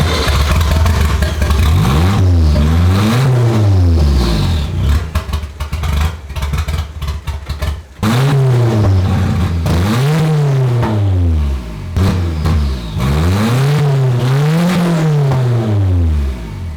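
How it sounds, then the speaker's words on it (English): The engine of a Nissan 240SX turbo build runs rough after its spark plug wires were fixed, revving up and down again and again with a rising and falling whine and a clattery, loud, close tone. "Makes turbo noises."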